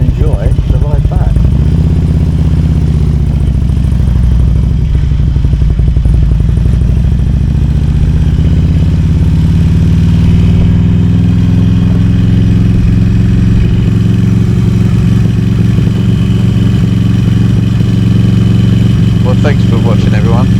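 A Harley-Davidson Road King 100th Anniversary Edition motorcycle rumbles steadily while being ridden, its low engine drone rising slightly in pitch with wind rush over it and occasional clatter, continuous and close throughout.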